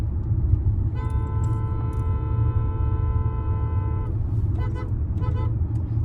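A Hyundai Creta's horn, recently faulty at high altitude near Umling La in Ladakh, sounds one steady honk of about three seconds over a low engine rumble, followed by a few short chirps.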